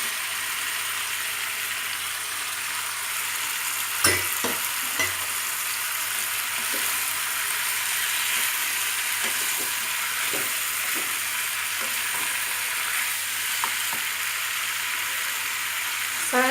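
Tomatoes and mixed vegetables fry in a pan for an Italian-style mixed vegetable dish, a steady close sizzle filling the whole stretch, broken by occasional scrapes and clinks of a spoon stirring.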